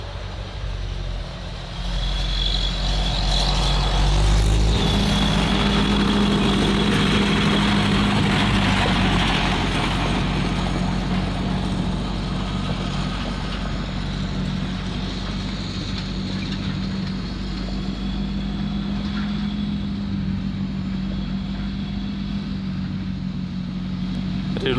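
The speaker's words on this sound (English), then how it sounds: "Sounds like the tractor's on its way past." A tractor rumbles past on an off-grid rural property, its low engine drone swelling as it nears around five seconds, then holding a steady, heavy hum as it moves along, with faint talk under it.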